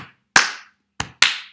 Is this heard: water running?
no